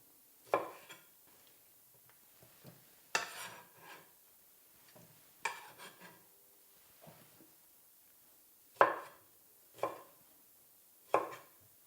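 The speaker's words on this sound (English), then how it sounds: "Give them a small chop, cut them through the middle and throw them into the bowl." Amsterdam sour onions chopped on a board for pasta salad, a handful of separate knife strikes spaced a second or two apart, fairly quiet with near silence in between.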